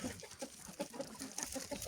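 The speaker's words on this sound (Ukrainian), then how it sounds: "А це щось ось ось ось ходить. Півничок наш в очках." A rooster clucks close by in a farmyard, a quick run of soft, rhythmic clucks over low background rustle, fairly faint throughout.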